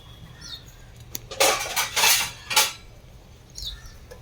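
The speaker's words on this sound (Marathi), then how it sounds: "आता ह्याच्यावर मी हे झाकण ठेवणार" A lid set down on a sandwich pan on a stove, making a few close metallic clanks and scrapes in quick succession, followed by quiet with faint background chirps and no talk.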